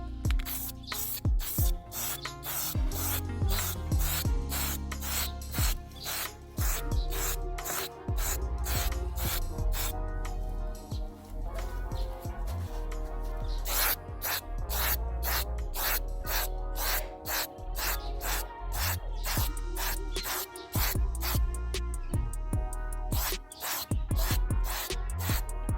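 Heat-resistant aerosol paint, rated to 350 °C, sprayed onto car brake calipers in rapid short hissing bursts, close and steady, with the rattle of the can between passes.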